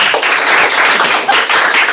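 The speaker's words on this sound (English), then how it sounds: "Let's give Jabari a round of applause." A classroom of students applauds a classmate after a snack-making demonstration, a dense burst of close, continuous clapping lasting the whole moment.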